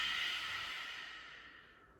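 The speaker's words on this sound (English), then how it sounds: "Now take a deep breath in through your nose. And through your mouth, breathe out." A slow, deep breath is drawn in through the nose and let out through the mouth in a senior balance and stability exercise. The airy exhale is close and soft and fades away to silence.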